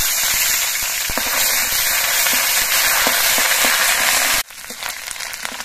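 Ginger paste sizzles loudly in hot oil with whole cardamom, cinnamon and cloves for an egg curry, a steady dense crackle that drops off abruptly near the end, then resumes softer.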